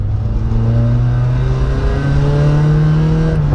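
Citroën Saxo Rally 2.0 engine droning loudly from inside the car, a steady low hum whose pitch climbs gradually as it accelerates.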